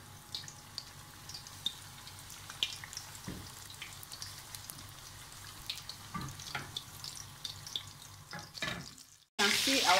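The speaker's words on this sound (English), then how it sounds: "Schnitzel is on the fire." A Wiener schnitzel fries in a pan of hot oil, a soft steady sizzle with scattered crackles and pops. A louder burst of noise cuts in at the very end.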